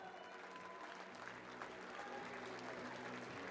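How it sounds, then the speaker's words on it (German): Audience at a climbing competition gives steady applause, a soft, distant spread of clapping that carries on evenly through the whole stretch. "Und auch hier nochmal ein herzlicher Applaus für die Arbeit der Routenbauer."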